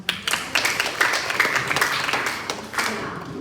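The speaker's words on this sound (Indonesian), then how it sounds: "Kita beri tepuk tangan." A class clapping together in a short, lively round of applause that stays steady and fairly close throughout.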